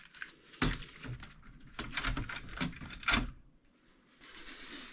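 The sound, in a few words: moving Amiga 1200 keyboard inside opened computer case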